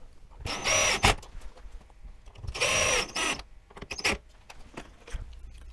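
Screws driven into a wall to fix a backplate for a remote smart light switch: two longer whirring bursts with sharp clicks and metallic rattles in between, close and moderately loud.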